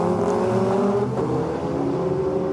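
The number 15 Elf La Filière Courage race car runs past at Le Mans in 1998 with a loud, sustained, high-pitched engine whine over a continuous rumble.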